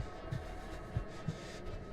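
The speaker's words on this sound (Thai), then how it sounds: "เสียงหัวใจเราเต้นโคตรแรงครับผม" A loud, low heartbeat thuds in a Roblox hide and seek game, several deep pulses at a steady rhythm over a constant hum.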